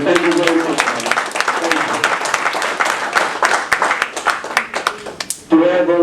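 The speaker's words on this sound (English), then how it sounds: "let's give that brother a round of applause once again" Audience applause at an Atlanta Holocaust event, dense clapping spread across the hall for several seconds, with a voice speaking briefly at the start and end.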